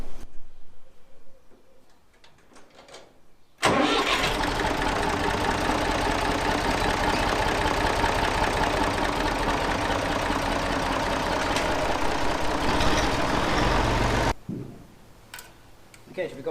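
A vintage Massey Ferguson 35X tractor engine turns over and catches, then runs at a loud, steady idle with a rhythmic chug before cutting off abruptly.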